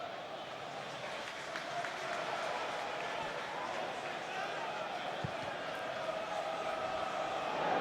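Steady roar of a football stadium crowd at Hull City versus Arsenal, a broad continuous murmur with occasional swells, under commentary.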